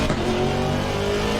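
A V8 race car engine in the Assetto Corsa Competizione racing game revs hard and loud, a strong harmonic drone that climbs briefly then holds steady at high speed, with no talk over it.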